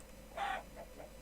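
A single chicken in the Minecraft video game gives a short, bright cluck, then two fainter clucks follow, soft against quiet background hum.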